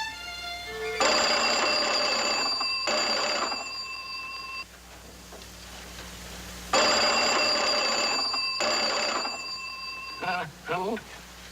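An old-fashioned telephone bell rings in two long bursts separated by a pause, loud and close, with a brief voice at the end.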